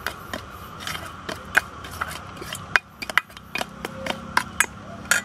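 Spoon or whisk stirring powdered milk into milk in a bowl for a bread-based sweet, producing irregular light clinks and scrapes of metal against the container, close and fairly quiet, with no talking.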